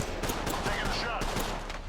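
Gunshots in the video game Apex Legends, a quick run of several sharp shots in an even rhythm, loud and close over busy game noise and a faint voice.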